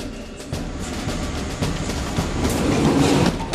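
A train rolls through Surabaya Gubeng railway station, a rumbling, clattering rail noise that grows steadily louder and closer, with wheel and track sounds building over the few seconds.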